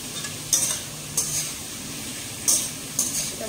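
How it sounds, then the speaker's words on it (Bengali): Chowmein vegetables frying in a pan give a steady low sizzle, broken by four sharp bursts of louder hissing and stirring spaced about a second apart. "তো চাউমিনের সবজিগুলো এখানে প্রথমে ভাজছি"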